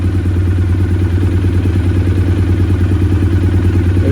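A Honda VFR400 NC30 motorcycle engine idles steadily and loudly up close, a low throbbing drone with a fast, even pulse and no speech.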